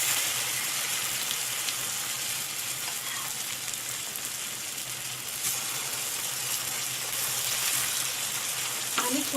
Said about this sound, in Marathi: तवा गरम झाला आपला आणि आता मी त्याच्यावरती धिरडं टाकून घेणार आहे